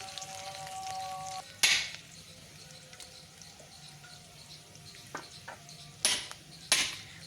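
Cut potatoes frying in oil with onion for a Bengali brinjal and fish-bori dish: a faint steady sizzle underneath, broken by several sharp metallic clinks and scrapes of a utensil against the pan, with no talking.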